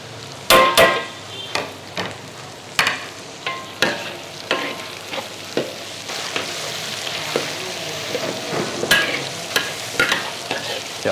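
Sliced onions sizzle and fry in a pan for an Indonesian stir-fry, with repeated sharp scraping and clanking strokes of a utensil stirring them, up close and with no talking.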